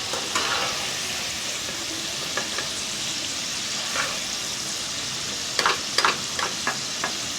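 Potatoes and pointed gourd fry in hot oil with a steady, close sizzle, broken by a few sharp clinks and scrapes of stirring near the end.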